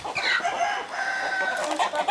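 Chickens on a farm in the village of Ocaklı near Nazilli cluck and squawk in a busy, close-up flurry of overlapping calls, with no talking.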